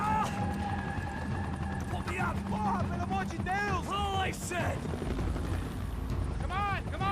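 A helicopter in the video game Max Payne 3 drones steadily through dense gameplay audio, its rotor hum buried under clattering effects and bursts of action sound throughout.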